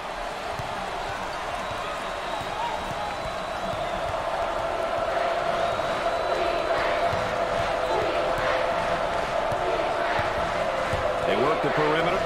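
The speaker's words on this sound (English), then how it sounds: "there's all kinds of people standing and cheering and going wacky" Crowd in a basketball arena at an NCAA tournament first-round game, New Mexico versus UCSB: a continuous loud roar of fans cheering with squeaks and bounces mixed in.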